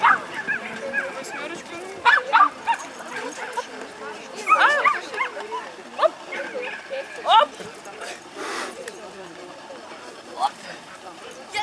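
Dogs giving scattered yips and barks with some whimpering, irregular bursts spread through a busy outdoor scene with people talking over them.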